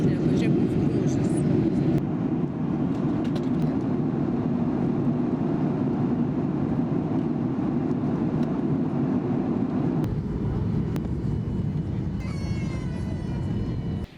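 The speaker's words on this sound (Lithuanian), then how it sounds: "Čia lėktuvas, kuriuo mes atskridome. Dabar esame Kauno oro uoste." Airliner at Kaunas airport, a steady loud roar of engine and airframe noise continuing throughout, with faint voices underneath.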